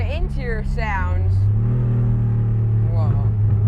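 Heard from inside an RWB Porsche 993 sports car, a deep engine drone rises and holds, while people exclaim over it.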